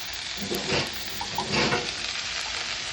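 Garlic frying in hot oil in a pan, a steady loud sizzle with occasional scraping stirs and light pan knocks.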